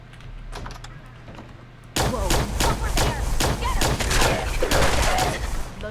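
Repeated gunfire from a weapon in Fallout 4, a burst of rapid shots that starts abruptly partway through and continues loud and dense to the end, over a low background hum.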